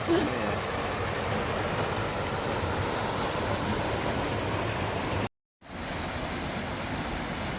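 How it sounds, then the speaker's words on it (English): Continuous rushing, splashing water noise fills the clip, steady and close, with a brief dropout near the end before it resumes. "A tiny little waterfall."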